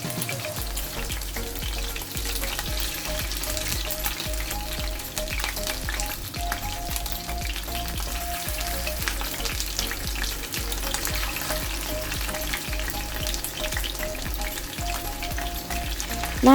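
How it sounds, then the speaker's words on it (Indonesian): Salted egg chicken pieces fry in hot oil over medium heat, giving a loud, continuous, dense sizzle that holds steady throughout with no voices. "Kita goreng satu persatu."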